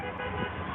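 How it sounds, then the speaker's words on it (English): Street traffic rolls past during a protest, a steady wash of car noise with a short horn toot sitting in the mix, fairly close and continuous. "look at the traffic"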